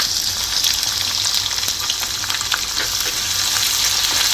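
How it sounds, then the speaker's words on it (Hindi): Peanuts and onion frying in hot oil in a home kitchen pan, giving a steady, dense sizzle with faint crackles that stays even and close throughout, with no voices. "हल्की सी मूंगफली हमारी फ्राई हो गई है, तो अब इसमें प्याज भी डाल देंगे, तो थोड़ा सा प्याज भी फ्राई हो जाएगा साथ में"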